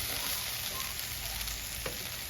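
Ingredients sauté in a pan for a Sri Lankan Tamil meat curry, giving a steady, close, continuous sizzle and crackle with no talking.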